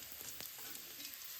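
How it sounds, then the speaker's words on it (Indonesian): Spice paste of shallots, garlic and chili sautéing in a pan, a steady close hiss of frying with faint stirring scrapes, no talk. "Ini bumbunya sudah kita mulai menumisnya ini. Setelah bawang merah, kita masukkan bawang putih."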